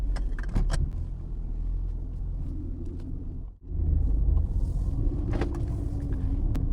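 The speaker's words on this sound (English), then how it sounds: "So as you can see, we've got a nice V6 rumble first of all." Low, steady engine rumble from a Mercedes-Benz W209 CLK with a V6 and 130,000 km, idling close by, with a brief dip midway before the drone resumes; no talking.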